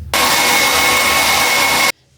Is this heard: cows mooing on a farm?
no